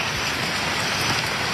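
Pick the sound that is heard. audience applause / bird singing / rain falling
rain falling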